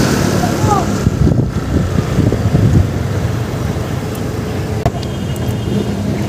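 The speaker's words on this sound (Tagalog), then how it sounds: "Ang lakas ng hangin." Steady, loud wind roaring and buffeting against the microphone at an MRT-7 rail construction site, with low rumbling underneath and scattered faint voices.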